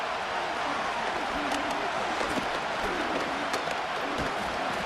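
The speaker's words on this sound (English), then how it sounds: "this crowd doing their best to make a lot of racket." A stadium crowd in Madden 25 roars in a constant, dense wash of cheering and noise that never lets up, with no single voice standing out.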